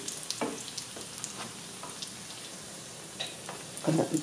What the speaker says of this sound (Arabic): كناخذ معلقه وكنبقاو نصبو عليهم من الفوق بالزيت